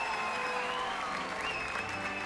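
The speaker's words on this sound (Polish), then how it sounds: "Tłumy szaleją" A crowd cheers and applauds at a sports pitch in the video game Hogwarts Legacy, a continuous loud roar of many voices and clapping with a few tonal shouts layered over it.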